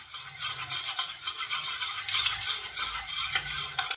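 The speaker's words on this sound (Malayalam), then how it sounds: "നന്നായിട്ടൊന്ന് ബീറ്റ് ചെയ്തെടുക്കണം. ഇതുപോലുള്ള ഒരു സ്പാച്ചുല ഉപയോഗിച്ചിട്ട് ബീറ്റ് ചെയ്താൽ മതി." Apple cake batter with vanilla essence is beaten with a spatula, giving a steady close scraping and rubbing texture with soft, irregular strokes and no talking.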